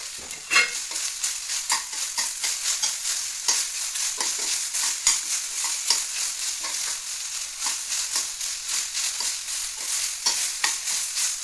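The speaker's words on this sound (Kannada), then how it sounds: "ಇದು ಫ್ರೈ ಮಾಡ್ತಾ ಹೀಗಿರಬೇಕು." Chicken gravy base frying in a pan, steady close sizzle with a constant hiss throughout, broken by frequent rhythmic scraping stirs, with no talking.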